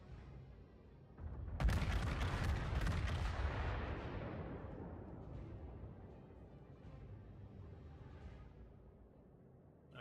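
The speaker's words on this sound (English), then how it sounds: "Alright, so it looks like I finally get my first salvo of the match off." Battleship main-gun salvo from a New Mexico in a World of Warships ranked match: one loud, deep boom that rolls into a long rumbling decay and fades slowly over several seconds, with no talking.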